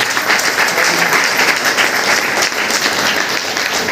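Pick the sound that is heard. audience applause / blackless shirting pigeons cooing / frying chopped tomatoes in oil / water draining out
audience applause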